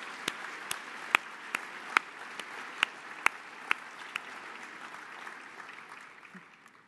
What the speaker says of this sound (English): let's do one more round of applause for all of our award recipients.